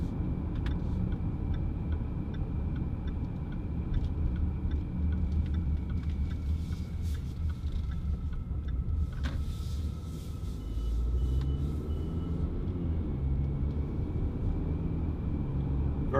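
Inside a 2017 Jaguar F-Pace R-Sport 250PS AWD on the move, a quiet, smooth low road rumble holds steady, with faint soft ticks from the cabin.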